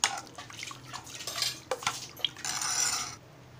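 Batter being mixed in a bowl for chunkappyache ghavane, salt just added: scraping, clinking strokes of a spoon against the bowl in uneven bursts, then a longer wet swirling stretch, close and fairly quiet with no talk.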